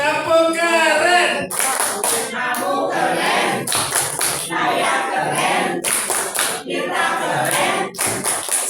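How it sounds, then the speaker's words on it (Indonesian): Group three leads a rhythmic classroom clap chant with a teacher, sharp unison claps landing in patterns between shouted chanted words, loud and close. "Tepuk keren"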